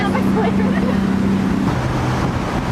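Loud rushing spray of water from a river cruise boat on the Willamette River, close by, a steady broadband hiss with a low droning pump hum running beneath it throughout.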